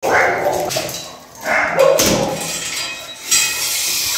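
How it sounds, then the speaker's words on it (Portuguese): A dog barks a few times up close, loud and abrupt against a busy background, while people talk nearby. "Cachorro."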